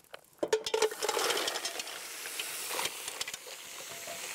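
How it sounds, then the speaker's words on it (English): Mussels tipped into a hot pot of crisp bacon and rendered bacon fat: a clattering tumble of shells followed by a sustained sizzling hiss and steam, with scattered clicks as they settle, fairly soft overall. "as soon as the bacon is crisp, it's time to add the mussels"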